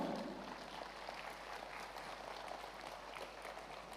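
A crowd applauding at a youth festival, with faint, distant, steady clapping that carries on evenly throughout.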